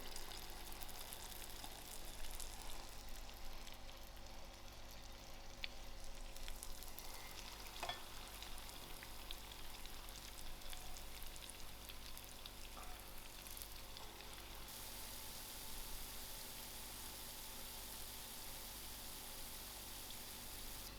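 Small pumpkin fritter batter balls (goolgoolas) frying in hot oil, a steady close sizzle and crackle with faint bubbling, continuous and even throughout with no talk.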